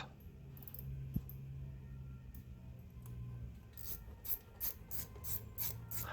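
Metallic scraping and ratcheting, close and quiet, as a cheap aftermarket slip-on exhaust can is bolted onto a Kawasaki Ninja 1100SX motorcycle, with a short burst of rhythmic rasping strokes near the end.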